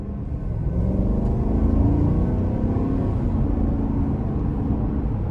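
A 2024 Chevrolet Tahoe High Country with a 6.2 V8 accelerates in a steady, close cabin rumble that swells and holds, with road noise and no talk.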